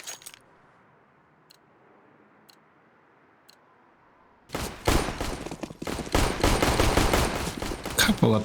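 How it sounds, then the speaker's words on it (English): Gunfire on the Nuke map in Counter-Strike: a few faint, sparse pistol shots over a quiet stretch, then a loud, dense burst of rapid fire and clatter taking over the second half. "Couple of pistol shots later"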